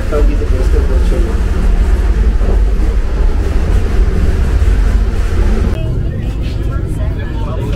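Interior of a moving Vande Bharat Express train in Rajasthan, a loud continuous low rumble and rattle of the carriage throughout, with voices faintly mixed in.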